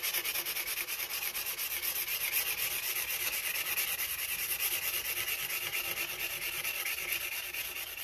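Close, steady rubbing of 320 grit sandpaper on bass guitar frets, a fine rhythmic scratching that keeps going without a break and with no talk.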